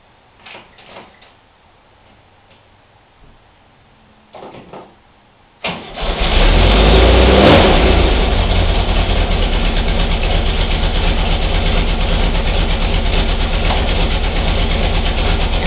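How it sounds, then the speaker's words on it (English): A cold 1958 VW Beetle Ragtop engine cranks and catches after a few faint clicks and quiet pauses, then settles into a loud, steady, slightly fast idle that runs on close to the microphone. "right now it's idling a little bit higher than normal because it's cold"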